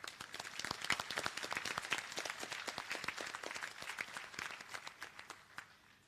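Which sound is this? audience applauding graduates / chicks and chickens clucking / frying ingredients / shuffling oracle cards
audience applauding graduates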